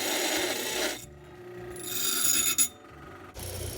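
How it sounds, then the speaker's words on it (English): A hand file works the burrs off the cut end of a car exhaust pipe held in a vise. Gritty rasping strokes sound up close, broken by short pauses and a brief metallic knock. "File off any burrs that'll stop the pipe from going in"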